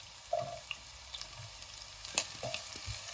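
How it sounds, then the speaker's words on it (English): Chopped onions frying with browned garlic in oil in a pan for chicken Manchurian, a faint steady sizzle with a few soft stirring scrapes and clinks, heard alone without talk. "At this point, I'm going to add in the chopped onions."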